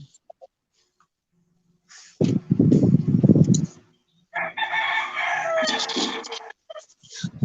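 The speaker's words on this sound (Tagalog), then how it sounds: "Shout out sa manok na tumitilaok." A rooster crows loudly and nearby in two long calls separated by a short pause, with faint clucking and background noise around them.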